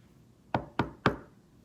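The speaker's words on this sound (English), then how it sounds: "knock, knock, knock" Three sharp knocks on a door, evenly spaced and close, in an otherwise quiet setting.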